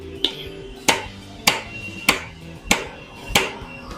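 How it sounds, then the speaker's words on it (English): A hammer strikes metal on a 9 inch rear axle six times at a steady pace of roughly one blow every half second, each a sharp ringing clang. "Let me get the bigger hammer."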